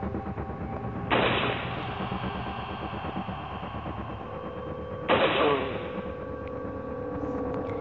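Two sniper rifle shots ring out in the Android version of Resident Evil 4, each a sharp blast with a trailing rumble, about four seconds apart, over steady game background hum.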